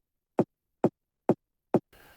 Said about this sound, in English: Then up next we have a more mid part.